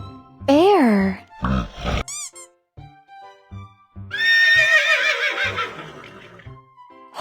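A horse gives a loud, bright whinny with a few snorts, set among musical chimes and cartoon effects, with no talk over it, in a children's animal-name lesson.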